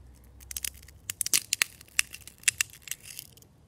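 An iPhone being snapped and crushed by hand, a close series of sharp cracks and crunching pops in irregular bursts, with crackling fragments between the louder breaks.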